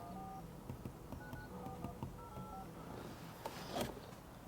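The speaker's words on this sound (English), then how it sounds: "So let's do a phone call. I'm gonna call the office." A short run of electronic keypad tones dialing a number through the hands-free system of a 2016-2021 Toyota Land Cruiser, with a faint hum of cabin noise underneath and a louder click near the end.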